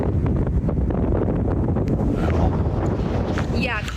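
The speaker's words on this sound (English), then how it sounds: "you can hear the winds right where you are" Strong wind gusting at an outdoor spot in Los Angeles near the Eaton fire, roaring steadily across the microphone throughout with heavy low rumble and buffeting; a voice talks faintly underneath.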